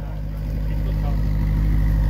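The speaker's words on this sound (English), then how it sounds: "Now the idle is stable." Car engine idling steadily, a warm low rumble with a stable hum, close and continuous; the vehicle is either a VW Golf or an Acura Integra.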